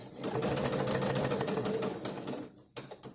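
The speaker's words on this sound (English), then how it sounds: "lift my presser foot, pivot, lower my presser foot, and keep sewing" A domestic sewing machine stitches fabric in a fast, steady mechanical whir for about two and a half seconds, then stops, followed by a couple of short mechanical clunks.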